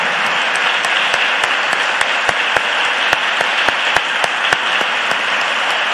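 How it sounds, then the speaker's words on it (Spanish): A congregation claps along during a religious service, loud continuous crowd clapping with a steady beat of sharp, evenly spaced claps throughout. "Batí las palmas."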